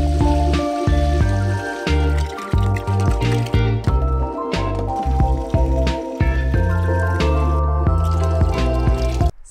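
Water pours and splashes into a homebrewing pot for an IPA, with uneven sloshing, dripping and filling sounds over a low rumbling hum throughout.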